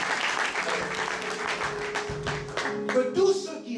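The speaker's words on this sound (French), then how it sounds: "Est-ce qu'on peut encore acclamer pour lui?" A church congregation applauds with a dense wash of clapping that carries on for several seconds, and a few raised voices rise over it near the end.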